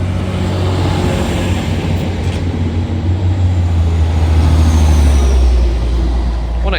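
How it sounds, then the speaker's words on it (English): TransPennine Express Class 185 diesel unit departing York station, a loud, close, steady low engine drone that builds as it pulls away, with no clear talk. "Starting now, the Transpennine Express Class 185, worker service from Scarborough to Manchester"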